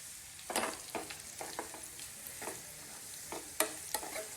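Curry leaves hitting hot oil for a spicy, tangy pandumirchi pickle, giving quiet crackling pops and sizzle bursts scattered irregularly over a faint steady fry, close by with no talk.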